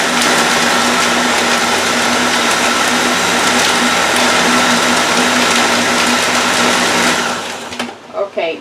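A blender whirs loudly and steadily as it mixes fresh strawberries into a smoothie, a dense continuous motor drone that cuts off abruptly near the end.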